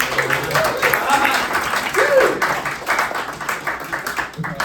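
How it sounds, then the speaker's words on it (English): Applause from an audience, a steady patter of many hands clapping with voices over it. "Clapping, clapping, clapping, clapping, clapping."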